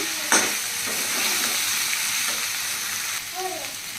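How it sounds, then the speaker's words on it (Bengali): Soybean chunks frying and being stirred in a pan, a loud steady close sizzle with scraping spatula strokes and a sharp knock near the start, no voices. "যে সোয়াবিনগুলো আমি ভেজে রেখেছিলাম এইগুলো দিয়ে দেবো দিয়ে ভালো করে কিন্তু কষিয়ে নিতে হবে ঠিক আছে ভালো করে কষিয়ে নিচ্ছি"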